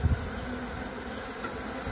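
Mandaçaia stingless bees buzz around hive blocks at an apiary in the Caatinga, a steady, moderately loud drone that holds throughout, with a brief low knock at the start.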